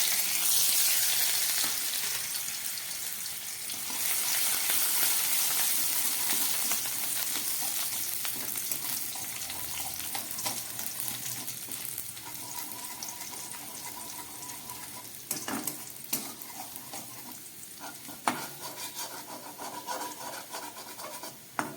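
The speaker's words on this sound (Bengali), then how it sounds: "কড়ার মধ্যে ঘি আর তেলটা ছিল, তার মধ্যে আমি দিয়ে দিচ্ছি কেটে রাখা রসুন কুচি।" Chopped garlic fries in ghee and oil in a wok, giving a steady, close crackling sizzle that slowly settles and is broken later by a few sharp scrapes and taps of a spatula.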